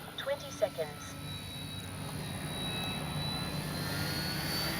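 A Dynam F6F Hellcat RC warbird flies a big loop overhead, its motor a steady whine that slowly swells louder as it climbs, after a few brief vocal sounds at the start.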